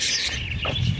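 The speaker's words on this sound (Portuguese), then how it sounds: "Tem calopsitas, as calopsitas. Ó, maritaca." Brief calls from cockatiels and parakeets chirp amid an outdoor background near a lake, a couple of short squawky notes rather than a clear song.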